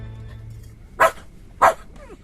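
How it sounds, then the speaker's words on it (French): Dog barking in an audiobook sound effect, two sharp close barks about half a second apart over a quiet background, followed by a faint whine. "C'est le chien."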